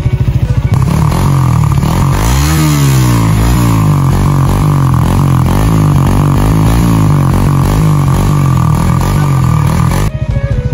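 A motorcycle engine revs loudly and close by. Its pitch climbs and dips again and again in repeated throttle blips over a continuous, rough idle for about ten seconds.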